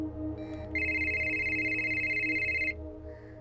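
A telephone rings with a steady electronic trill lasting about two seconds, preceded by a short beep, fairly quiet and close.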